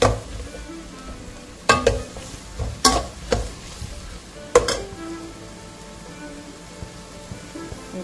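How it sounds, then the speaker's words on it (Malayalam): Capsicum and green chili sauté in a pan with a soft steady sizzle, broken by several sharp stirring scrapes and clinks of a utensil against the pan. "പിന്നെ എടുത്ത് വെച്ചിരിക്കുന്ന പച്ചമുളക് നന്നായിട്ട് വഴറ്റാം"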